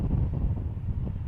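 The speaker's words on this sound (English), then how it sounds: "we're out here on a very windy day here in San Francisco" Steady wind buffets the microphone on a very windy day at San Francisco International Airport, a low continuous rumble with gusty swells and no talking.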